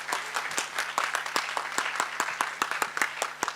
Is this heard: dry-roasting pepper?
no